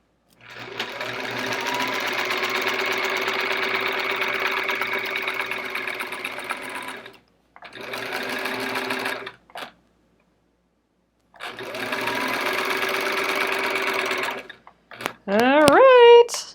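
A sewing machine stitches in the ditch along a quilt's seams, running in three sustained bursts with short pauses between, then a brief burst and a few quick mechanical clicks at the end.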